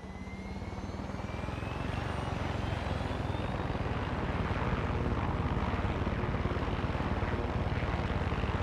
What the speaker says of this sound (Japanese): ヘリで行ったる、もう。